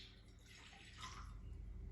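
Water is poured into a container as the first step in mixing caustic soda for soap, making a faint, continuous splashing and running rush.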